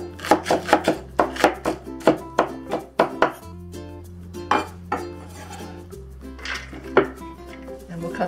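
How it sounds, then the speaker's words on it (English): Knife chopping green onion on a board for a chayote squash, tofu and mushroom stir-fry, a quick run of sharp, close, irregular chops over a steady low kitchen hum. "So next, let's cut the green onion."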